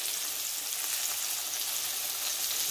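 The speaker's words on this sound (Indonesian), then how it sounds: "Kita goreng-goreng." Chicken skin pieces frying in hot oil for a crispy snack, a steady, dense sizzle and crackle that holds evenly close-up throughout with no talking.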